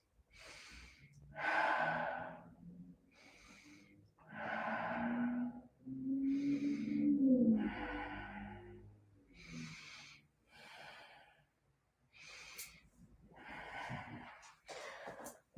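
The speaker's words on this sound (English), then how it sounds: "You're squatting. 5 breaths." Deep, audible breathing during a yoga squat: slow, separate inhales and exhales, about a dozen breaths with short pauses between them, close and fairly soft.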